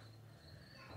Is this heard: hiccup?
no